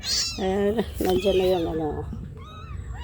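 A pet cat meows several times close by, mixed with a person's soft speech.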